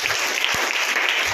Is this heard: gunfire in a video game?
no